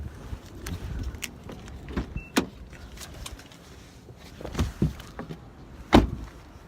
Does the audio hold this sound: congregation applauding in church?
no